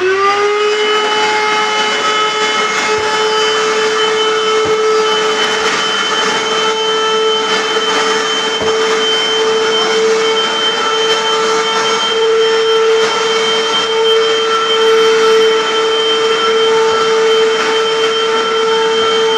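A Vax Rapide Ultra carpet washer motor runs steadily and loudly for the whole stretch, a high whining hum with no pauses.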